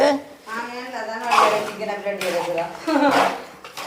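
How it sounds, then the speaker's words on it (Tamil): Chicken stirred in a cooking pot, with a spoon scraping and clinking against the metal under steady conversation close by. "இப்போ சிக்கனை கிண்டுறியா"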